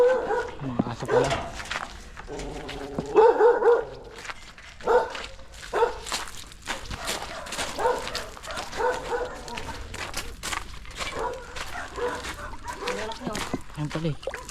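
Dogs bark and yip in short irregular bursts at close to moderate range, mixed with people talking over a busy outdoor background.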